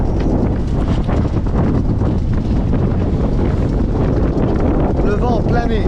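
Strong wind buffeting the microphone on a sailboat heading into an 18-knot headwind off the Balearic Islands, a loud continuous roaring rumble throughout, with a voice partly buried beneath it.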